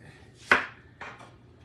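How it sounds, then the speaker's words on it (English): A knife chops through a yellow onion on a cutting board, two distinct chops about half a second apart, the first sharper and louder, the second softer, with nothing else around them. "It was a yellow onion too. And I'm just going to cut this up."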